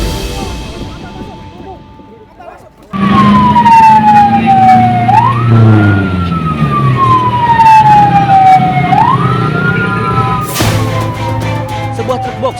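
A fire truck's siren bursts in loudly and wails in slow rising and falling sweeps over engine rumble as it heads to a burning box truck outside a minimarket in Magelang, Central Java.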